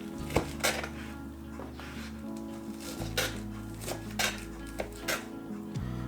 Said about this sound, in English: Get a nice sharp knife and you're just gonna cut them up small.